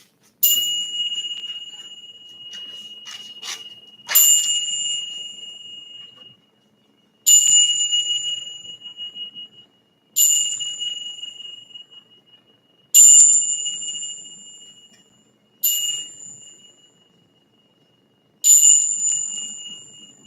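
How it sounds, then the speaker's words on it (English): A bell rung seven times at the start of a Unitarian Universalist church service, each clear ding spaced a few seconds apart and left to ring out and fade, with no voices. "we ring the bell 7 times for the 7 principles of Unitarian Universalism"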